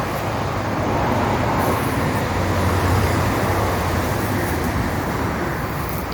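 Cars passing on a nearby street beside an abandoned house, a steady loud roar of road traffic with a low engine rumble swelling midway, continuous and without talk.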